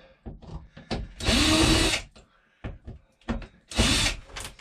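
Power drill fitted with a number 2 square bit driving screws into an RV bathtub enclosure, two loud whirring bursts of about a second each amid scattered clicks and knocks, close by.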